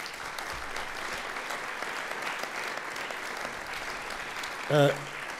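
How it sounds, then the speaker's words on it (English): A crowd applauding steadily for several seconds, a dense wash of clapping that stays even throughout, with a brief whistle near the end. "deserve a big round of applause, so please give them that"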